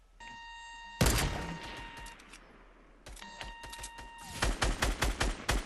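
Bursts of gunfire in a video game firefight, sniper shots among them, loud and close, with tones and beeps from the game and a rapid volley of shots closing it out.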